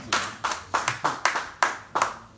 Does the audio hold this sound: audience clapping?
yes